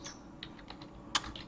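Quiet keystrokes on a computer keyboard as a formula is typed into a spreadsheet, a run of light, irregular clicks with one sharper tap near the end, close and alone.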